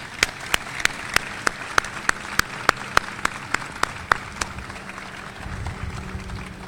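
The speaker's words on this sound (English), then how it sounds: "Please give them a round of applause." Applause for veterans at a hospital Veterans Day ceremony, heard as a run of sharp, evenly spaced claps that stop after about four seconds and give way to a low room murmur.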